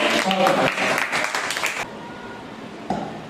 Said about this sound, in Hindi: तो इनके लिए एक बार फिर से जोरदार तालियां हो जाए